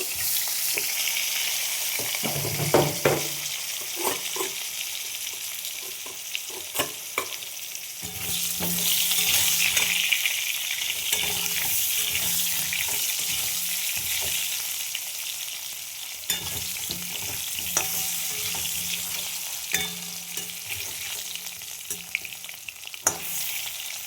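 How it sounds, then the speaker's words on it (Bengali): Potatoes fry in hot oil tempered with cumin seeds, a steady sizzle punctuated by occasional clinks and scrapes of a utensil stirring the pan. "আলুগুলো আমি ভেজে নেব"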